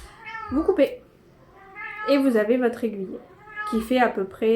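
A cat holding a plush toy in its mouth meows repeatedly and loudly nearby in drawn-out, wavering cries, interleaved with someone talking in the room.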